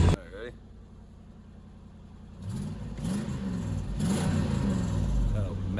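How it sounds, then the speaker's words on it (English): A fourth-generation Toyota 4Runner on TRD wheels, its exhaust leaking, starts with a burst and then idles before revving up into a loud, rough, raspy drone. "Oh, massive exhaust leak somewhere"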